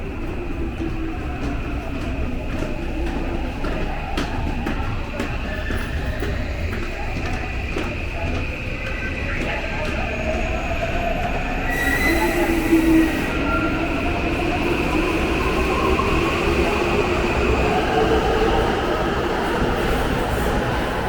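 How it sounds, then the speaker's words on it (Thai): A train passes on the rail line in Japan, sending a loud, continuous rumble and wheel roar that swells slightly midway and holds steady throughout, with no speech. "รถไฟไปพอดี"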